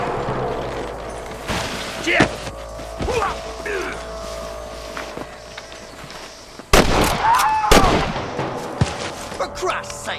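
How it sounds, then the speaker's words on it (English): Scattered gunshots crack through a Red Dead Redemption shootout, with a few sharp reports early and a loud cluster near the end, heard under speech and game ambience. "I can hear more gunshots."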